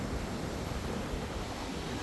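Rough sea waves surge against a pier at El Nido, a constant loud wash of churning water mixed with wind buffeting the microphone, with no voices.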